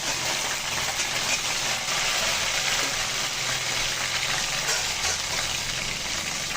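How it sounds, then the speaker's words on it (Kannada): Chopped tomato frying in oil with softened onions for rajma curry, a dense, constant sizzle heard up close and fairly loud, with no voices. "ಆಯಿಲಲ್ಲೇ ಫ್ರೈ ಮಾಡ್ಕೊಳ್ಳೋಣ"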